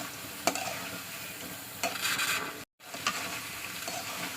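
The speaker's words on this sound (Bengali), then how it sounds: "মাছগুলোকে দিয়ে দেবো দিয়ে একটু কষে নিলে আমার হয়ে যাবে মাগুর মাছের ভোনা রেসিপি" Magur catfish frying in spice masala for a bhuna, heard as a soft, quiet sizzle with scattered stirring scrapes and one brief dropout.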